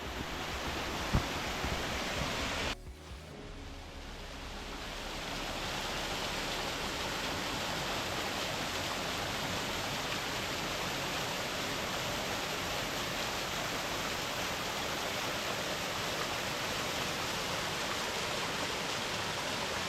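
Steady, dense rush of a waterfall on Beinn Bheula in Scotland that holds constant after a brief disturbance early on, broadband and close, with no voices.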